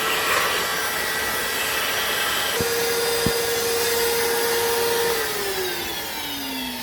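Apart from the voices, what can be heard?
vacuum cleaner cleaning a car radiator area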